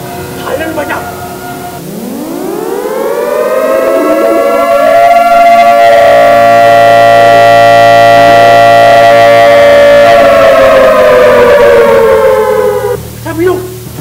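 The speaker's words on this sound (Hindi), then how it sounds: "सायरन बजा।" A loud factory air-raid siren in a stage play winds up from low to a high sustained wail, holds steadily for several seconds, then slowly winds down.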